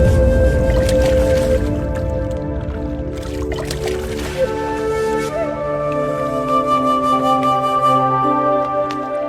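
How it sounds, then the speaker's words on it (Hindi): Two clay pots are lowered into water, giving close sloshing, gurgling splashes and trickles with ringing resonant tones, and a brief louder splash in the middle. "अब आप इन दोनों घड़ों को पानी में डाल दीजिए।"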